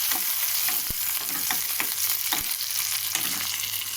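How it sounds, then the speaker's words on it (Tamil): Curry leaves being stirred into browned onions for a chickpea kuzhambu base, a continuous close sizzle with light knocks of the spoon against the pan, no speech. "இப்போது இதில் கருவேப்பிலையும் கருவேப்பிலை போட்டு நல்லா ஒரு கிண்டு கிண்டிட்டு"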